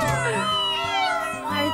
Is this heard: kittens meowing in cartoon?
yes